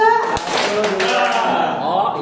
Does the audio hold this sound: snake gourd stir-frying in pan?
no